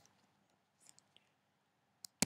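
Mouse clicks on a computer during MythTV setup: a few soft, faint ticks early on, then two sharp, close clicks near the end against near silence.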